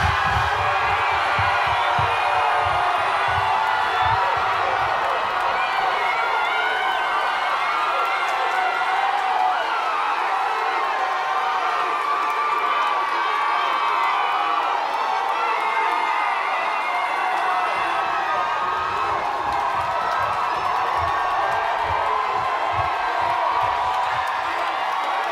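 A large crowd of family members at a high school graduation for John Adams College and Career Academy screams names and cheers continuously, a dense, sustained roar of shouting and whooping throughout.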